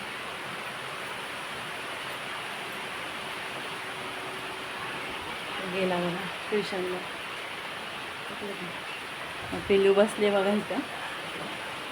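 Rain falls in a steady, broadband hiss throughout, with a person speaking in short bursts over it.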